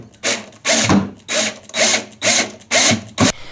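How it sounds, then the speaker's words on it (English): Cordless power drill tightening the mounting flags of an old-work electrical box in an existing wall between studs, heard as six short, loud whirring bursts in a steady rhythm with brief pauses between them, close up and alone. "Now I'm going to just take my drill, and I'm going to tighten up those little flags that's snugging in."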